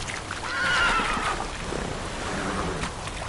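Roach, the horse in Witcher 3, lets out a single close neigh in the first second, followed by softer snorting and low rumbling ambience over a steady outdoor background.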